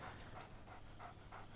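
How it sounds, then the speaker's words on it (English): Dog in the Baldur's Gate 3 video game panting in rapid rhythmic breaths with soft whining, close and fairly quiet, no talk. "Scratch barks merrily in something like agreement."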